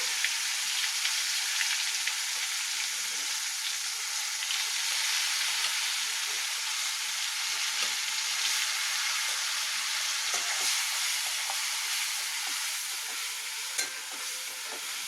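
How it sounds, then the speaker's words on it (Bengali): Spice paste fries in oil with nigella seeds in a pan, a constant close hiss and crackle with faint stirring scrapes now and then. "কড়ার মধ্যে একটু তেল দিয়েছি আর এই যে কালো জিরে ফোড়নটা দিচ্ছি"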